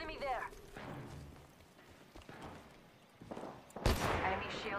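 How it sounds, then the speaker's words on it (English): Charge rifle gunfire in the Apex Legends video game, a sharp loud blast near the end following scattered in-game shots and noise, with players talking over the action. "Hit the guy with the charge rifle."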